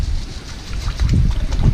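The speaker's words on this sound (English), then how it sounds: "Probably really windy and you can't hear me." Loud, low wind buffeting the microphone outdoors in a garden by a koi pond, rumbling and gusting unevenly throughout with no voices.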